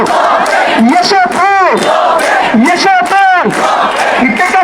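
A large crowd of students at a quota reform protest in Shahbag chants slogans in unison, loud rhythmic call-and-response shouting repeating in waves throughout.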